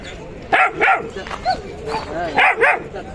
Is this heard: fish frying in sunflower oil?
no